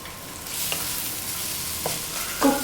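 Curry leaves sizzle in hot oil for a tamarind rasam, a close steady frying hiss broken by a few distinct spoon scrapes and clinks as they are stirred, with no voices.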